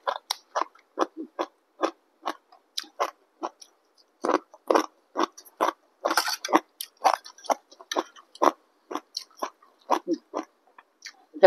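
Crunchy fresh vegetables eaten with Thai rice noodles in fermented fish sauce (khanom jeen sao nam pla ra), chewed up close in a steady run of crisp bites and crunches, with no talking.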